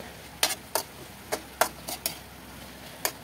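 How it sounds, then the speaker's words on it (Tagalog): Ginataang papaya with dilis and malunggay stirred in a pot, a handful of sharp scraping and clinking strokes at uneven intervals over a quiet background. "At ayan na nga, haluin ulit."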